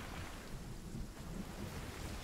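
Swimming through water in the video game Fortnite during a storm, heard as a steady rushing, wash-like water and wind noise that stays even throughout, with no talk.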